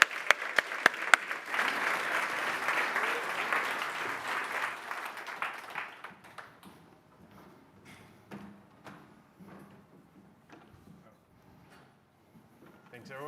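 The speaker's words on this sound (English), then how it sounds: "Please give them your loudest round of applause." Conference crowd in London applauding company founders, a few loud claps opening into several seconds of dense clapping that dies away into sparse claps, shuffling and room noise.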